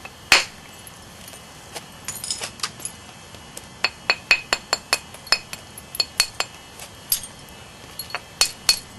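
A bigger bopper strikes a stone biface again and again to knock off flakes, giving sharp, ringing clicks in a fairly steady rhythm that speeds up toward the end, close and clear with no talk.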